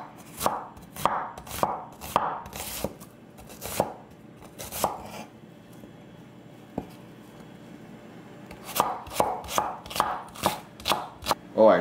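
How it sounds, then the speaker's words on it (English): Knife chopping garden chilies finely on a cutting board, rapid rhythmic taps in two bursts separated by a pause, close and crisp, with no talking. "Oh, our chilies, can't forget the heat. Just gonna cut these real fine."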